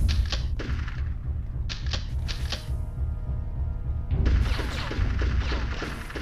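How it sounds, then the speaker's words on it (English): Gunfire in the toy-soldier shooter Army Men: Sarge's Heroes comes in quick bursts of sharp cracks, pauses, then returns as a dense, louder volley near the end. "Who the fuck was shooting me"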